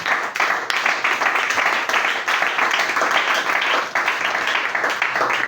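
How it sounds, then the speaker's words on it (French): A church congregation claps and cheers together during a Sunday service, loud, dense and continuous applause throughout with no pause. "donnez une acclamation pour le Seigneur Jésus-Christ"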